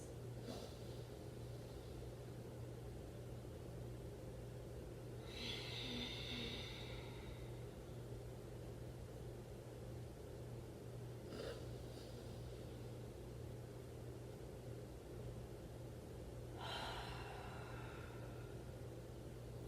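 Slow, deep yoga breaths, inhaling and exhaling in a steady rhythm, make four soft, airy bursts spaced several seconds apart over a quiet, low hum.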